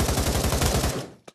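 Rapid automatic gunfire in the Pavlov Shack VR game, a loud burst of about a dozen evenly spaced shots that stops abruptly, followed after a short pause by a single mechanical click or clack.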